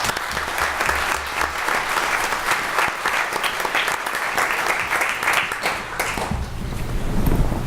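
Sustained audience applause in a board of supervisors meeting room honoring a volunteer fire department engineer, a steady, fairly loud wash of many hands clapping throughout.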